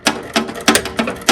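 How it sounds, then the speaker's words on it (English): Ratchet wrench clicking in five evenly spaced bursts, loud and close, while work is done on a Jeep XJ 4.0 power steering pump, steering box and hose. "It's nice, like that nice tooth ratchet."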